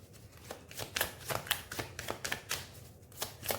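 Tarot cards are shuffled by hand in a steady series of crisp riffling bursts, close and clear, repeating roughly every third of a second with no talking.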